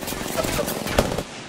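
Video game gunfire from a Prowler weapon rattles in a steady rapid stream with a louder burst near the middle, while a player talks over it.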